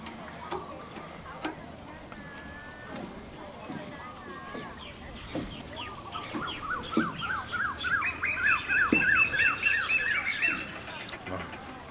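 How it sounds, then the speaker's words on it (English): Loud birds chirp and squawk in quick repeating bursts in Kanchanaburi, Thailand, growing busier and more insistent, with faint ticking and background noise. "Some loud birds."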